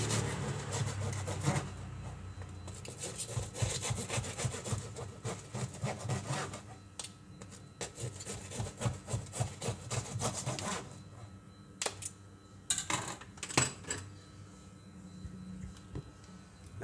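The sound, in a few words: knife slicing Bandung-style toast bread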